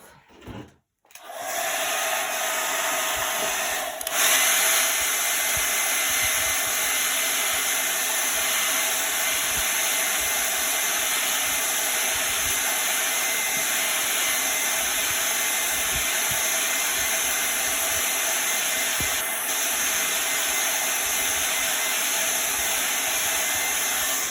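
A dryer blows steadily and loudly on a wet stencil set sticky side up for a chalk craft project, a continuous broadband rush running nearly unbroken after a brief start, with no talk over it.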